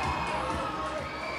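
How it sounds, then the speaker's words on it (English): A fight night crowd cheers around the ring, a dense, steady roar of many voices filling the space, loud and continuous throughout the short moment. "here's McAleese getting that crowd going"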